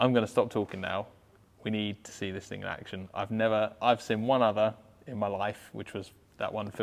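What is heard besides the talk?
No everyday noise stands out behind the speech.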